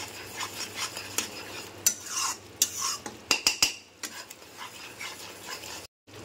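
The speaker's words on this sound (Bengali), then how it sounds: "এবার ভালো করে সব মশলাগুলো দিয়ে নাড়িয়ে নেব।" Spices being stirred into a pan of fried potatoes: a series of metallic spoon scrapes and clanks against the pan, irregular and close, with a brief silent gap near the end and no speech.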